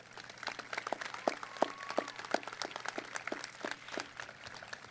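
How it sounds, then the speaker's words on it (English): Audience applause at the West Ashley High School 2021 graduation ceremony: scattered, uneven hand claps pop in a steady patter for several seconds, moderately loud in a large room. "please give these nominees a round of applause"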